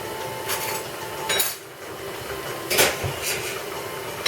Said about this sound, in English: Tasting spoons out.